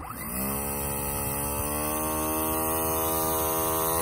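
A model plane's electric motor spins up from rest to a steady, close, buzzing whine, rich in harmonics, and holds there with no talk; the plane carries gyroscopes.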